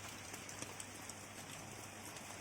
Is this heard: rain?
yes